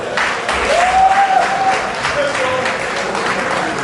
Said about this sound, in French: Une fois de plus, on applaudit pour Bombo Aimé.